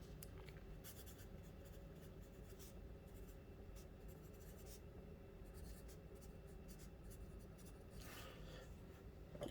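A Blackwing Natural pencil scratches and scribbles across Maruman croquis paper in quiet, repeated strokes, close up and with no talking.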